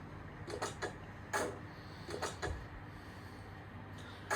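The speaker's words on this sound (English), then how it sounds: "Then function 16 is open close cab door." An OO gauge Class 66 model locomotive with an added sound chip plays a cab door opening and closing: a handful of short, quiet mechanical clunks and slides spaced irregularly over a faint hum, with no talking.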